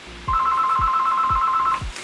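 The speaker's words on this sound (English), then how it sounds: "of course the phone would ring." Indoor telephone gives a steady electronic tone for about a second and a half, with soft low thumps pulsing beneath it in a regular rhythm.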